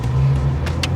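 A BMW M3 E46 doing donuts gives a loud, steady engine drone close by, with a couple of short hissy bursts near the end.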